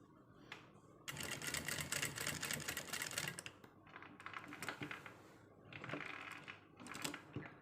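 A sewing machine stitches back and forth, reinforcing a sleeve end on a garment repair, in close, rapid mechanical bursts with short pauses between runs.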